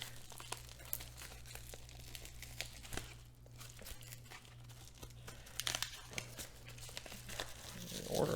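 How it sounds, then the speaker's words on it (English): Paper or plastic mailer packaging being ripped and crinkled open by hand to reach a Japanese Pokémon card, a run of scattered crackly tears and rustles over a steady low hum, close and fairly quiet. "I want to try and rip this one open so I don't accidentally nick any cards in here."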